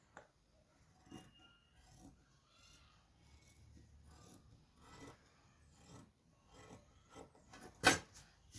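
Scissors cut through a fabric sleeve in a series of soft, faint snipping and rasping strokes, with a sharper cut near the end.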